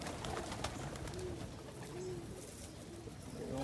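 Pigeons coo repeatedly at close range as they gather to feed on wheat grain, a steady low cooing over light outdoor background noise.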